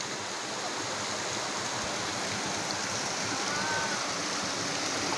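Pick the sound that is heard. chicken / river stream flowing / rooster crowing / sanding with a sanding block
river stream flowing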